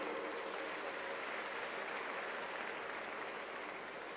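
A college annual day crowd gives sustained applause, many hands clapping in a steady, blended roar that sounds faint and distant throughout.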